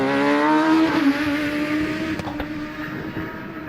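A Force HC 998cc hillclimb race car at Loton Park speeds past, its high engine whine strong at first, then sliding lower and fading, with a couple of sharp clicks near the end.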